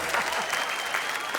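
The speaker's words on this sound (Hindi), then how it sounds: "तालियां बजाइए।" An audience applauds steadily and continuously at a Hindi poetry recitation show, with dense clapping filling the moment.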